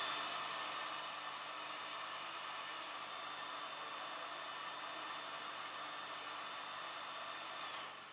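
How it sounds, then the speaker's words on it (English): A steady, loud blowing roar of a heat gun or hair dryer softening material while setting up an Eheim Pro4+ aquarium filter runs continuously without pause, tapering slightly at the very end. "take that heat gun or hairdryer, or however you heated it up before again"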